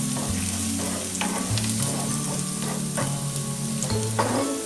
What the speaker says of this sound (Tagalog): and then we will saute our garlic and onions